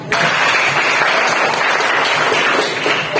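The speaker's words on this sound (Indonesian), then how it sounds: "Ya, bagus sekali, tepuk tangan." A classroom of students breaks into steady, dense applause at close range, sustained evenly for a few seconds before starting to taper.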